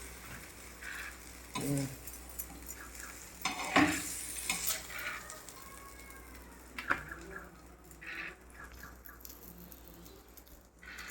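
Mackerel masala fry in a pan, with quiet frying sizzle broken by scraping and stirring noises, a few louder clattering strokes early on, and faint background sounds between.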